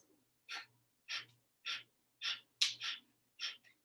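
Bhastrika yoga breathing: a series of forceful, breathy exhalations in a steady rhythm, about seven sharp puffs with brief silences between them, close and fairly soft.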